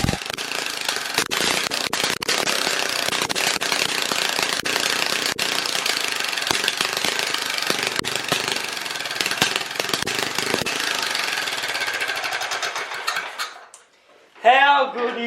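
A racing mower engine with no muffler runs loud and raw, a harsh rapid popping roar that holds steady for many seconds before cutting out abruptly, followed by a brief burst of voice.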